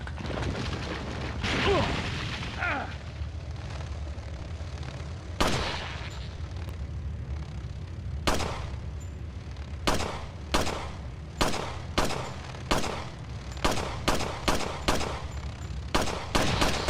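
Gunfire in the Resident Evil 4 video game: a few scattered blasts, then a rapid run of sharp, loud shots spaced roughly a second apart.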